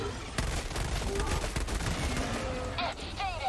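Burst fire from the MP-98 Knight submachine gun in Helldivers 2, rapid loud clusters of shots running nearly nonstop amid battle noise, with a brief lull and some electronic tones near the end.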